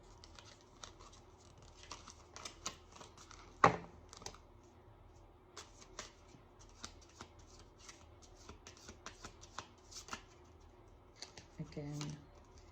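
Tarot cards being shuffled by hand, a soft, close run of papery riffles and slides that comes in irregular bursts, with a sharper snap partway through, over a quiet background.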